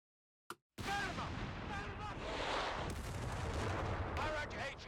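A high-explosive artillery barrage in Company of Heroes 3: a brief blast, then a sustained roar of booming impacts and rumbling detonations, loud and continuous with chatter underneath.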